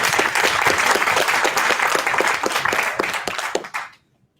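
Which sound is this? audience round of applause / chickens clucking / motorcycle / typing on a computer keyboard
audience round of applause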